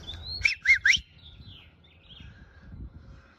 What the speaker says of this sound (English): Look at that big red bird.